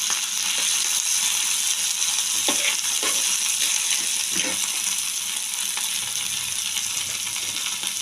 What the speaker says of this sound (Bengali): বেগুনে একটু নুন দিয়ে ভেজে নিচ্ছি